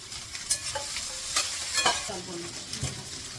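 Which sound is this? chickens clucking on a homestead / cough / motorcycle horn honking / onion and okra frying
onion and okra frying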